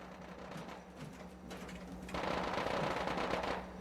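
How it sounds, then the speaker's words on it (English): In Fallout 4, rapid gunfire rattles steadily and grows louder and denser partway through, with a low steady hum underneath and no voices. "I heard that bullet whiz right past my character."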